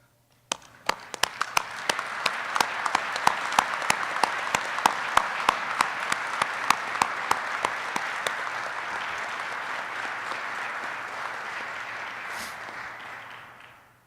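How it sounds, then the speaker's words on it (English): Standing applause at a military change of responsibility ceremony, starting abruptly and building into loud, dense clapping with crisp nearby claps, sustained for over ten seconds before tapering off. "If everyone could just stand up and give Joseph a round of applause."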